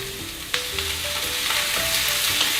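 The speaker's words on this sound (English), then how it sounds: "We're gonna stir in the rest of our vegetables now." Vegetables including zucchini frying over high heat for a lasagna, a loud continuous sizzle with a sharp clank of a utensil and steady stirring scrapes throughout.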